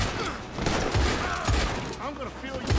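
Revolver gunshots in the video game Red Dead Online, several sharp reports in quick succession amid game noise, loud and close.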